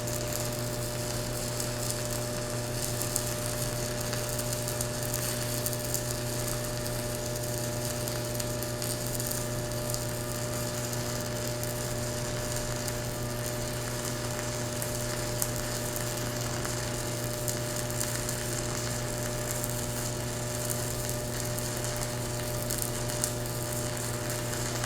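Chanharm 120A single-voltage 110V DC stick welder arc welding at 66 amps, a continuous crackling, buzzing arc with an even hum throughout, close and steady with no pauses or talk.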